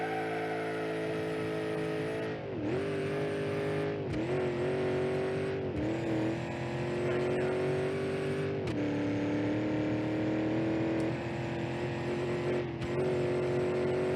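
A 440 engine car in the BeamNG.Drive driving game revs hard and accelerates through several gear changes, a loud steady engine roar whose pitch climbs and drops at each shift, with brief dips between gears and no talk over it.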